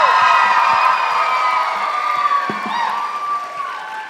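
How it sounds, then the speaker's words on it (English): An audience at an Arangetram, a classical Indian dance debut, cheers and whoops loudly. Many high shouts and cries blend into a sustained roar that slowly fades over several seconds. "please cheer as loud as you can so she can hear from the back"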